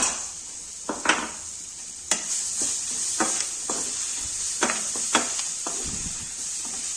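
Onions fry with gram flour in a hot pan for a wedding-style cauliflower dish, a constant sizzle punctuated by sharp spatula scrapes and taps against the metal as the mixture is stirred, near and without voices.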